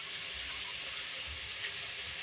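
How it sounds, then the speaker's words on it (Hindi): Water pours steadily into a cooking pot of tomatoes and beef for tahari, a soft continuous splashing hiss with no talk. "अब इसके अंदर मैं पानी ऐड करूँगी गोश्त को गलाने के लिए"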